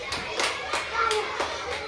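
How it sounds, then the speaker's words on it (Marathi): Children clapping their hands in a preschool classroom game, a few loose, uneven claps mixed with kids' chatter and an adult voice nearby. "टाळ्या वाजवा, टाळ्या वाजवा."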